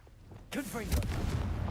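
The Confringo fire-blast spell goes off in Hogwarts Legacy: a sudden whooshing burst followed by a fiery crackling blast that lingers briefly, fairly quiet in the mix, with a voice over it.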